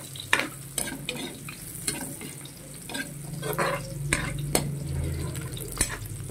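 Garlic frying in a pan for a Lenten home-cooked dish, a steady sizzle broken by sharp scrapes and clacks of a spatula stirring, with some watery splashing.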